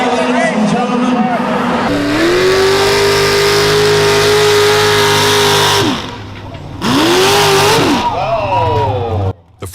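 A pulling tractor's engine roars at a sustained high pitch during a tractor pull, holding a steady loud drone, cutting out briefly, then revving back up with a rising and falling whine.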